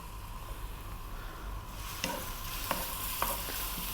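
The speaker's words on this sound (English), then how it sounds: "In goes a tablespoon of ginger and garlic." Ginger and garlic dropped into hot sunflower oil in a wok, a close steady sizzle that intensifies midway, with a few sharp scraping stirs.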